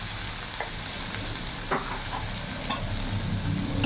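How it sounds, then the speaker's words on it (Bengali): Long-cut potato strips fry in hot oil with salt and turmeric, a steady close sizzle broken by scraping stirs of a spoon at irregular moments, with no talking. "কিছুক্ষণ ভাজা ভাজা করে নেব।"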